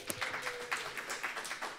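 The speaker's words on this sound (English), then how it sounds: "One more round of applause, please." Short burst of audience clapping after a poetry reading at a poem jam honoring poet laureates, scattered claps close and moderately loud, ending quickly without talk.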